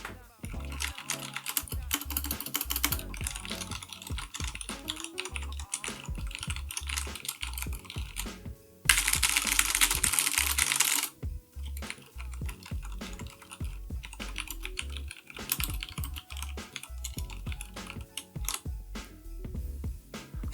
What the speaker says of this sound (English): we'll go ahead and actually do a sound test right now so you guys can hear what they sound like